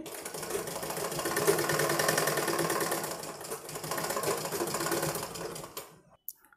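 A sewing machine runs steadily as it stitches thread piping around a blouse neckline, with a fast, even mechanical whir held for about six seconds before it stops abruptly, close and without talking.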